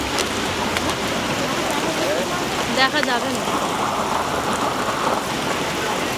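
Heavy rain pours steadily near a temple, with a constant dense hiss of falling water filling the whole stretch while a person talks over it.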